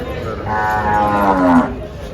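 Holstein Friesian cows at a cattle market in Dhule give a long, loud moo close by. A single drawn-out bellow fills most of the clip over the low hum of the market.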